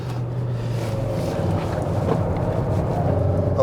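Skoda Octavia RS 230 hp, a 2017–2018 facelift model, driven fast; a steady low engine drone with faint wind noise runs continuously at moderate level inside the cabin, with no talking.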